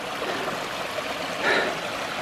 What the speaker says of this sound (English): So that's the river I was aiming at, or a stream rather